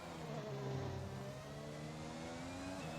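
An F1 car engine in F1 2021 whines steadily, its pitch rising as it accelerates. The sound is faint and continuous and holds a thin, buzzing tone.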